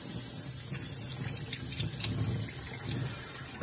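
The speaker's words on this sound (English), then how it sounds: "The first thing we are going to do is to wash the potatoes." Tap water runs steadily into a sink while potatoes are washed, a faint even hiss with soft splashing, close and unbroken and free of any talk.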